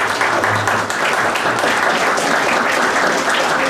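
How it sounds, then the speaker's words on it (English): Sustained applause from a theatre audience at a charity comedy show, a dense even wash of many hands clapping, loud and close, holding steady throughout without a break. "Let's get a ripple of applause going."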